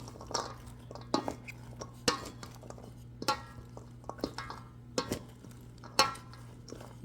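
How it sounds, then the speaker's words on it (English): Cabbage and tomato salad being tossed in a bowl, with soft rustling and repeated sharp clicks of utensils against the bowl in an irregular rhythm, close and fairly quiet. "Add as many grape or baby tomatoes or cherry tomatoes as you like, and then just mix this."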